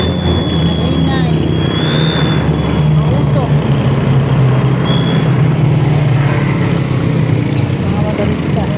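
A noisy jeepney engine chugs in Philippine traffic, a loud, constant low drone with rattling road noise from inside the open-air vehicle, while people talk over it.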